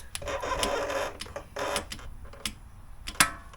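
A torque wrench ratchets a vehicle's differential drain plug tight to 25 foot-pounds, giving several close, crisp clicking bursts with short pauses between them.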